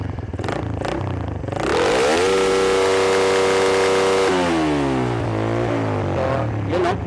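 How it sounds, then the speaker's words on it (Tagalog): Motorcycle engine with a stock CDI revving hard: a clattering idle rises into a loud sustained full rev, holds, then drops back and blips again, close to the microphone with no talk. "Hindi ako matatakot na i-full rev yung motor ko kasi nga stock CDI lang naman ako."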